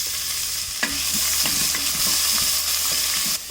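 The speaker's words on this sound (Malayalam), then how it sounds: "ഇനി നമുക്കിതിലേക്ക് ഈ ഇഞ്ചിയും പച്ചമുളകും സവാളയും ക്യാരറ്റും എല്ലാം കൂടി ഒരുമിച്ചിട്ട് വഴറ്റി" Ginger, green chilli, onion and carrot sauté together in a hot pan, a steady sizzle broken by the scrape and clack of a spoon stirring through the vegetables.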